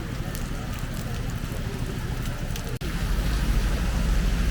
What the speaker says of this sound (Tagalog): Umulan na talaga siya.